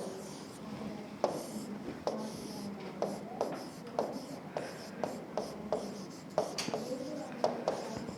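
Chalk or marker writing on a board in a classroom lecture, a series of repeated short scraping strokes and taps at an uneven rhythm, close and clear, with faint room noise between them.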